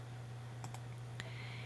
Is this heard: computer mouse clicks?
yes